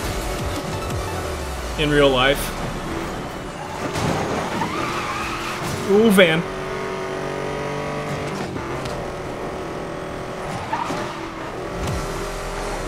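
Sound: Chevrolet Corvette engine in video game NFS Most Wanted 2012

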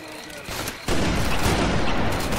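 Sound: gunfire shooting the player in Left 4 Dead 2 video game

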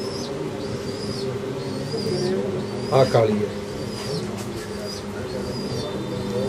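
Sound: pigeon cooing

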